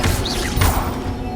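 A Stupefy spell is cast in Hogwarts Legacy, a quick swooshing burst with a rising whistle and a thudding impact, short and punchy over background game ambience.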